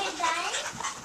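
Quick, breathy panting from a Ruby Cavalier King Charles Spaniel, a rapid close rhythm of soft huffs over about a second, with faint voices in the background.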